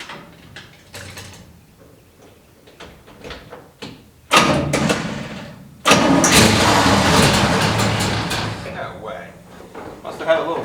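A 1970 Chevrolet C10 pickup truck that sat parked for six months cranks over after a few clunks, catches briefly, then fires up and runs loud and close.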